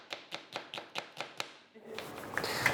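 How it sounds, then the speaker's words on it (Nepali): A knife slicing onions lengthwise on a cutting board makes about eight evenly spaced, crisp chops, then gives way to rustling and handling noise. "प्याज चाहिँ हामी लामो तरिकाले काट्छौँ, लामो तरिकाले"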